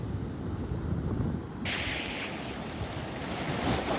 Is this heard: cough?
no